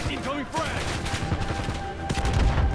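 Gunfire in the Call of Duty Black Ops 7 campaign: a dense, continuous barrage of rapid shots and blasts over a thick game soundscape, loud throughout, with some voice mixed in.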